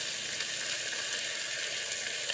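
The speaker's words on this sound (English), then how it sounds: "if you can hear me, guys, over the sizzles" Bacon and eggs frying in a pan for a bacon, egg and cheese sandwich, giving a steady, close, continuous hiss and crackle of sizzling grease with no talking.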